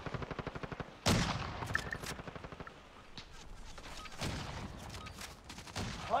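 Sniper rifle fire in Call of Duty: Black Ops Cold War, a few sharp, loud single shots standing out against rapid automatic gunfire and game ambience, with no talk over them.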